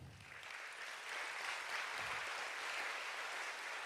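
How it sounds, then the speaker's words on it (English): Audience applause at an awards evening, a continuous, even patter of many hands clapping, heard somewhat distant and faint, lasting the full few seconds without voices. "Round of applause for you guys."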